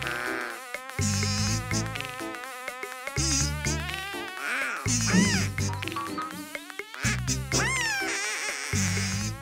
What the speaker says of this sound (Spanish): Solo es una abeja que...